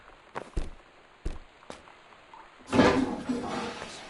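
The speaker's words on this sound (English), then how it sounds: "Courtesy flush." A few soft thuds and clicks, then a toilet flushes with a rushing swirl of water in the Gone Home house, loud and close before tapering off.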